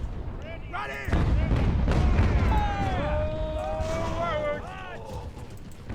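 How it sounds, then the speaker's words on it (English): Artillery fire in the naval-era strategy game Ultimate Admiral: Age of Sail, a low rumbling boom rolling under someone talking over the battle. "especially since my artillery is still doing the job"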